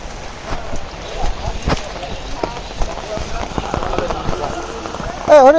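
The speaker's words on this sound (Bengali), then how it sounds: "বৃষ্টি বৃষ্টি বৃষ্টি" Steady rain patters on surfaces on a wet morning, a dense close crackle with scattered louder drops, while people talk nearby.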